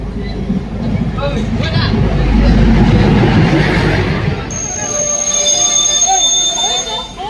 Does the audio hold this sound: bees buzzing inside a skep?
no